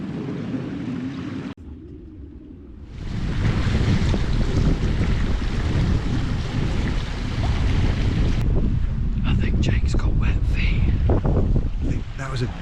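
A person wades across a Scottish hill river, with loud rushing water and heavy wind buffeting the microphone dominating most of the stretch after a short quieter opening.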